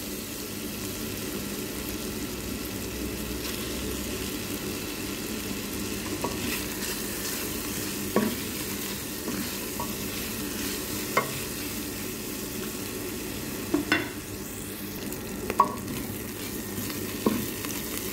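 Onions sizzle steadily in a pot for beef bourguignon, with occasional sharp scrapes and clicks as they are stirred, a continuous moderate frying hiss and no talking.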